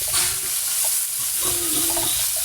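Water lily stems frying with chopped onion and turmeric in a pan, a steady close sizzle with occasional stirring scrapes, no voices.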